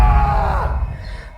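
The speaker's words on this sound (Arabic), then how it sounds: "صرخة ألم مكتومة" A muffled cry of pain from behind a closed apartment door in the dead of night, one strained voice wavering and sliding downward over about a second, then fading into a low, heavy rumble.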